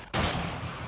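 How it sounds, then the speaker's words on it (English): One sharp, loud shotgun blast in 7 Days to Die during a zombie horde fight, hitting abruptly and then ringing out in a broad, slowly fading tail. "I'm going to jump down and finish off the last few with the shotgun"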